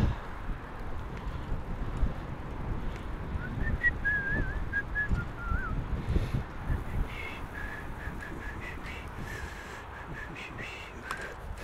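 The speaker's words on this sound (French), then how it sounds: "Oh, il y a du vent." Outdoor wind blows as a continuous low rumble against the microphone, with faint bird calls and whistle-like tones rising over it partway through, and no voices.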